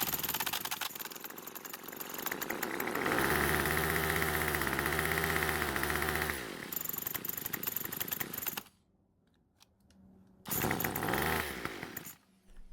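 Small two-stroke engine on a Craftsman string trimmer running loud and close, revving up and down with a buzzy whine, then dropping out briefly before roaring back and fading again.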